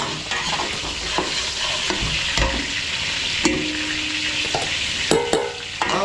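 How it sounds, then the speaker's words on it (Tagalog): Garlic and onion sautéing in a large catering pan at a farm resort party, a loud steady sizzle with repeated scraping and clanking of a spatula stirring, close and without talk. "bawang, sibuyas, gigisa natin to."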